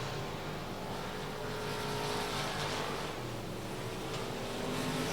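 Race cars circling the oval at Rocket Raceway Park, a dense continuous engine roar with overlapping drones from several cars, steady and loud throughout.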